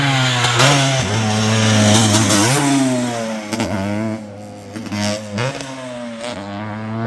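A 22-year-old dirt bike rides a motocross rhythm track at Durhamtown, its engine revving up and down close by in quick rising and falling bursts as it clears the jumps.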